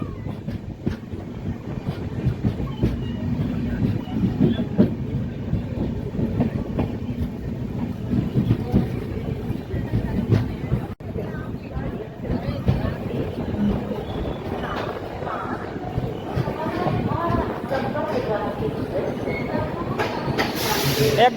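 The crowded Marathwada Sampark Kranti Express runs from Nanded toward Chhatrapati Sambhajinagar with a steady loud rumble and rhythmic rail clatter, with voices murmuring faintly in the carriage.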